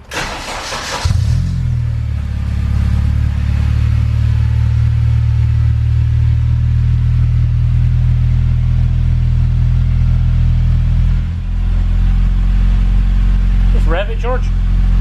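A Honda K24 engine fitted with an EP3 Twinloop exhaust cranks and fires up, then settles into a loud, steady idle rumble that runs for about fourteen seconds, with a brief dip near the end and a voice speaking over it.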